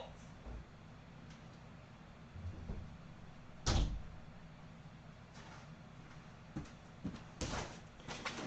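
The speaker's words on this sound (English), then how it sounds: "I'm gonna close the doors." Doors close inside a house, giving a sharp knock about midway and another cluster of bumps later, fairly faint against a quiet room background.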